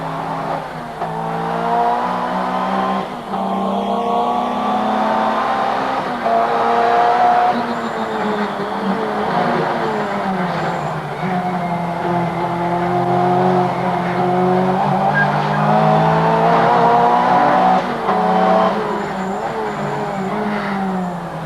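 Ford Sierra Group A racing car at speed on a circuit, a loud continuous engine drone with shifting pitch and brief tyre squeal, heard steadily throughout with no talk.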